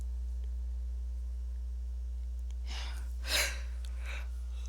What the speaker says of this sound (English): I'm yawning to death over here